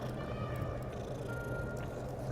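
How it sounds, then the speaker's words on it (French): A cat meows in the Hogwarts Legacy video game, a few short mewing calls sitting over a steady, dense game ambience of background music and environmental noise. "Un chat!"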